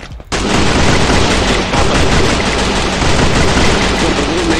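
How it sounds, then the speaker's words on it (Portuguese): Gunfire rattles in the video game Free Fire, a loud, dense burst of rapid shots that starts abruptly after a brief silence and keeps going almost without pause. "Tem, ele tava atirando em alguém"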